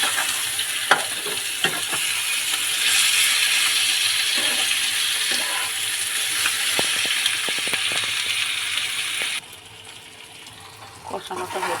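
Mutton meat and liver frying in oil in a pan give a continuous loud sizzle, with frequent scraping and clinking as a utensil stirs them; near the end the sizzle drops to a quieter level.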